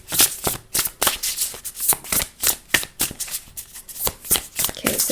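A deck of tarot cards being shuffled repeatedly, quick riffling bursts in an irregular rhythm, close and crisp with no talking.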